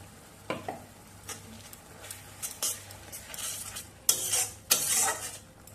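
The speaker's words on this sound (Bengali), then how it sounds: "এবার টমেটো খুব ভালো করে কষিয়ে নিই তার কাঁচা গন্ধ দেওয়া অবধি" Tomato paste and turmeric sautéing in a pan for a Bengali rui fish curry, with scattered scraping stirs and clinks of a spatula against the pan over a low sizzle, plus two louder bursts of stirring near the end.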